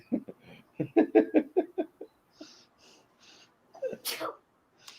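A single sharp sneeze near the end, preceded by a burst of laughter and a few quiet breaths.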